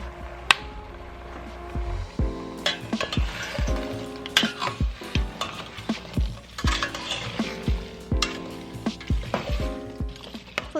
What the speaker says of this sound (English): hopefully you were able to hear some of those cranberries start to burst as they heat up